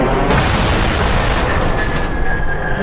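Missile striking a Lego B-52 bomber, a loud, close, sustained explosive roar with crackling debris noise filling the whole moment.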